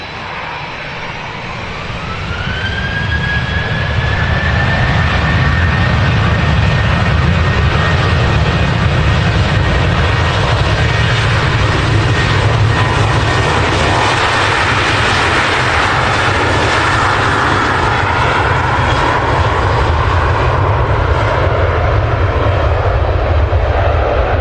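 A Ryanair Boeing 737-800 jet departs for Dublin, its engines building to a loud, sustained roar that holds steady throughout.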